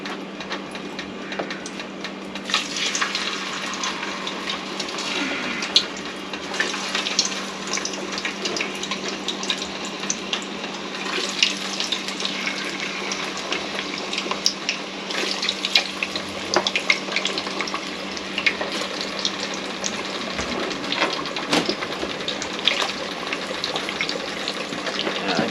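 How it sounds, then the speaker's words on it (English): Steady sizzling and bubbling of chips blanching in beef dripping at 150 degrees, a continuous crackling hiss with small pops throughout, heard close up. "You set your fryer at 150 degrees and then blanch the chips first"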